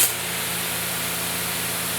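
An AR Blue Clean AR630 hot-water pressure washer sprays through a 6.0 nozzle, giving a steady, loud, close hiss of water with a low motor hum beneath it. The sound stays even for the whole two seconds after a brief start.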